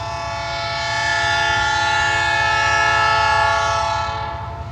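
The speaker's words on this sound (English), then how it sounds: "And here comes the train." A heavy freight train with a locomotive pulling hard up a 6-mile, roughly 1.5% grade, its horn blaring in a loud, sustained chord over the deep rumble of the engine, swelling as it passes close by.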